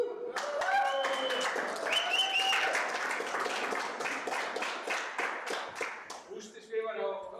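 Enthusiastic audience applause at a tournament final night, dense sustained clapping lasting several seconds with voices and cheers mixed in, fading toward the end.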